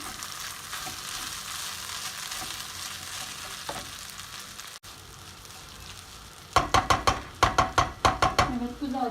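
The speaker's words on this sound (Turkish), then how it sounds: "bu şekilde yaklaşık bir 5 dakika karıştıracağım" Rice being stirred in a pot for pilaf: a steady sizzling hiss, then a burst of loud, rhythmic scraping and clinking strokes near the end.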